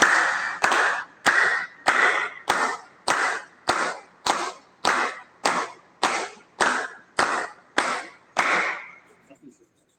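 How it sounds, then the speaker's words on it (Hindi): Hands clap during a yoga session in a steady rhythm of about fifteen sharp, evenly spaced claps, close and loud, each with a short airy tail, before stopping. "पुनः अपन तालियां बजा लेते हैं"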